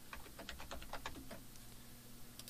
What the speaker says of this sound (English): I could just type in the list item, opening and closing tags, before and after each item in our list.